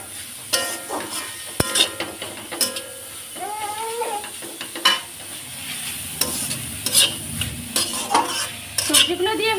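Chopped chillies and capsicum stirred in a frying pan, with a soft sizzle beneath repeated scrapes and clinks of a spatula against the pan, irregular and close.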